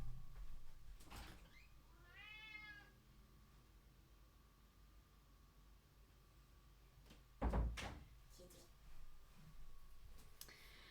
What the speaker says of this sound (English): There's your meow.